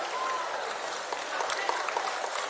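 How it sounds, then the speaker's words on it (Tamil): An audience at a prize-giving ceremony in Chennai claps loudly for a winner. Dense, continuous, even applause fills the whole stretch with no breaks. "உங்களின் பலத்த கைத்தட்டலோடு"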